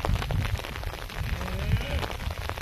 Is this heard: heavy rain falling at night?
yes